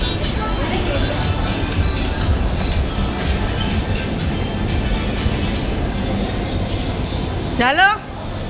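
A passenger train rumbles along steadily with a continuous rolling roar, and a brief wheel squeal rises near the end.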